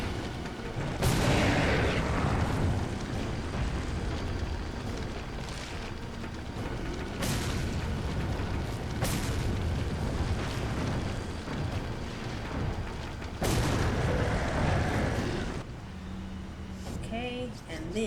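Several heavy booming grenade blasts in the video game Resident Evil 4 HD, spaced a few seconds apart over a continuous rumbling game background, with someone talking throughout.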